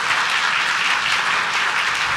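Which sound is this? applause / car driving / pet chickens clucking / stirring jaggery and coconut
applause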